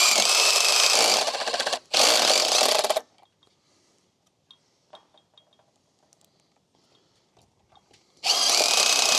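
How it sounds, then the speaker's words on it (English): Power drill driving screws into an aluminum fence post, two loud sustained bursts of whirring strain, a long quiet pause with faint clinks, then the drill roaring back in at the end. "hear how this is drilling very hard"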